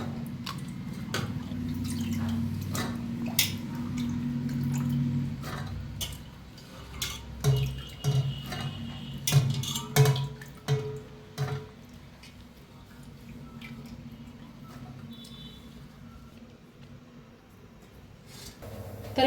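Water poured over soaked chickpeas in a pressure cooker during rinsing, with splashing, trickling and dripping sounds that come in bursts and then thin out to scattered drips, close and moderately quiet.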